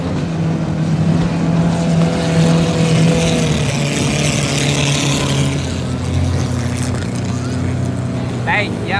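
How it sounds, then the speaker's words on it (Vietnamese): Racing motorboats with Volvo diesel and petrol engines roar loudly and continuously during a boat parade at an eco-tourism festival in Phong Dien, Can Tho, with a voice talking over the engines throughout. "Hai động cơ Volvo dầu và xăng."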